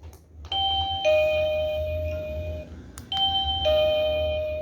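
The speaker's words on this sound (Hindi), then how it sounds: "ये वाली जो डोरबेल है" An electric doorbell rings twice, each time a clear two-tone electronic ding-dong chime, close and fairly loud over a low background hum.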